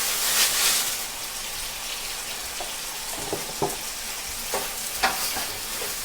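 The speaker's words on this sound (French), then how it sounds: "On remue bien le riz pour le nacrer" Rice being stirred in a hot pan for paella, a steady soft sizzle with scraping stir strokes and small clinks spread through the clip, fairly quiet and with no talking.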